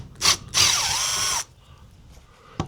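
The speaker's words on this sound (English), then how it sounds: "Just got the old Milwaukee. Take the screws off and should come out pretty easy." A Milwaukee power drill backs Phillips screws out of a Forest River Georgetown RV side mirror. A short whir is followed by a longer, loud, steady spin whose pitch dips midway, then quiet and a small click.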